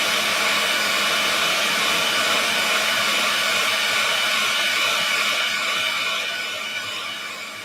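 A hair dryer blows on wet paint on a small cactus craft, a loud, close, continuous airy roar that holds steady and then begins to fade at the end.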